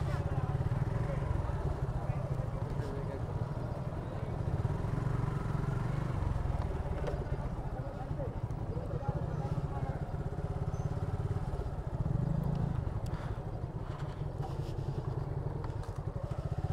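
Three motorbikes idle and rumble as they are parked on a roadside, a steady low engine drone with clatter, while people talk nearby.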